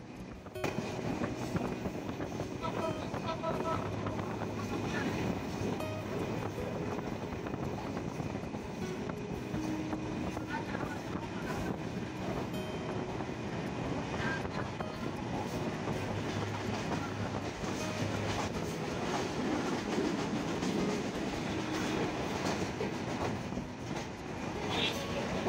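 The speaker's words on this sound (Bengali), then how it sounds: "Chitra express train through pass যাচ্ছে ঢাকা ক্যান্টনমেন্ট রেল স্টেশন।" The Chitra Express train runs through Dhaka Cantonment railway station at night, a long steady rumble of rolling wagons with rhythmic clickety-clack and occasional wheel squeals, moderately distant.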